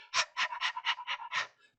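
Dog panting heavily, a quick run of about seven rhythmic breathy huffs, close and fairly soft, with no talk.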